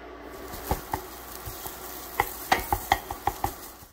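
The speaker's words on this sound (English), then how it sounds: "we're gonna be crumbling those up as we cook it until it is done" Crumbled sausage sizzles steadily in a pan as it cooks, with a run of crisp spatula taps and scrapes against the pan; no voices.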